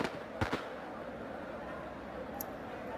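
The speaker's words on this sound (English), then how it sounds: "we'll try and get a firecracker in here to kind of annoy them a bit" A firecracker goes off in a riot video game, giving two sharp bangs close together near the start over a dense, noisy crowd background.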